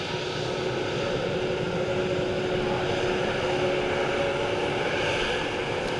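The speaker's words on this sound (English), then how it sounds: "A321neo." Airbus A321neo airliner at Dublin Airport, a steady broad jet roar with a faint whine, continuous and fairly loud throughout with no talk.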